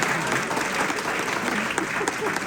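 Audience applause fills a lecture hall on medical psychology, steady dense clapping from a crowd, loud and close, continuing without a break.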